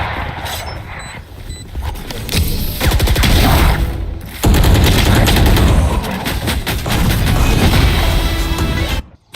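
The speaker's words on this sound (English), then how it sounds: "Launching missile." A missile launch and explosions in a video game: sustained loud roaring blasts and crackling debris fill the clip, with a sharp new burst midway and dense rumble continuing until an abrupt cutoff.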